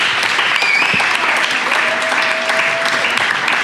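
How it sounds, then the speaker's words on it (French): An audience at a winter festival's 20th-anniversary event applauds steadily and loudly throughout, dense clapping with a little cheering mixed in. "On peut les applaudir."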